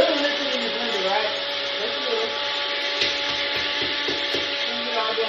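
Kitchen blender whirs while mixing chia seeds and oat milk into a drink, a steady motor whine with sloshing liquid, nearby and moderately loud, with brief rhythmic knocks in the middle.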